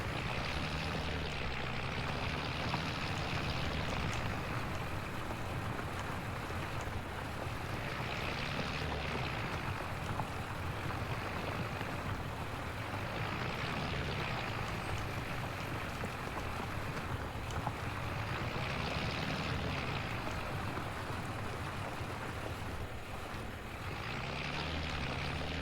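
A tractor engine in a video game drones steadily for the whole stretch, a loud low rumble that swells and eases in slow, regular waves.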